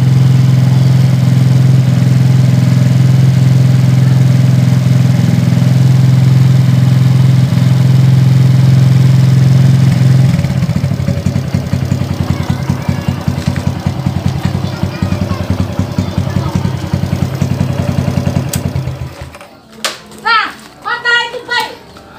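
Suzuki Shogun SP 125 motorcycle idling while it warms up, a loud steady low engine hum close by that turns rougher partway through and cuts out near the end, with a voice speaking over it.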